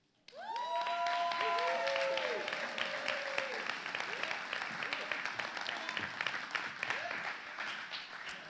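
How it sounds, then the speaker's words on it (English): A church congregation gives a round of applause before a testimony, steady full-room clapping with cheers and a few whoops rising over it, voices calling out near the start. "I want you to give a round of applause"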